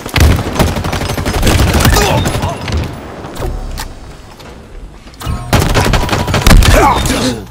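Bursts of rapid gunfire in the Halo Infinite arena Strongholds mode, loud and close, with a lull in the middle before heavy shooting resumes, and short game announcer voice lines mixed in.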